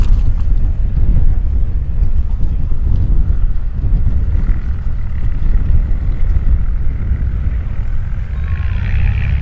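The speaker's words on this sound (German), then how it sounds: "Wind frischt auf, definitiv." Loud, constant low rumble of wind buffeting the microphone at an airfield air show, roaring without pause throughout, with faint higher noise drifting in near the end.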